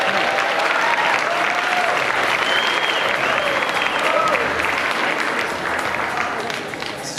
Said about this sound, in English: Give them a round of applause as they come on stage.